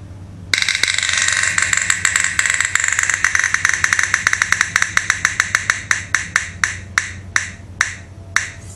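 A prize wheel spun during a cross-stitch work-in-progress session whirs in a rapid, loud run of ticking clicks that gradually slow and space out until the wheel comes to rest, with no talking.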